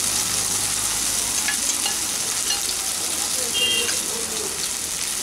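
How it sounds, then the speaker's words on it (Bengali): Taro and coconut paste with green chilli and garlic paste stirred in hot oil, giving a steady close sizzle with soft scraping strokes throughout and no talk. "ভালো করে তেলের মধ্যে নেড়ে নেব"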